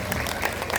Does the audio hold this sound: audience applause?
yes